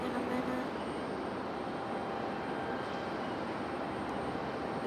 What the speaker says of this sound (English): This one was Delta Connection 5028, a CRJ 900. Just came in from JFK.